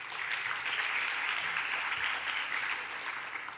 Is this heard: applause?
yes